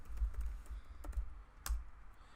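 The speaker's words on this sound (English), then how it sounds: "My typing is terrible today." Someone types on a computer keyboard while playing the adventure game Space Quest 3, producing sparse, quiet key taps, one sharper click near the end, over a low rumbling hum with no talking.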